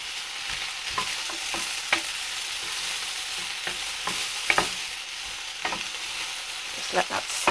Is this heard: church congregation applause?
no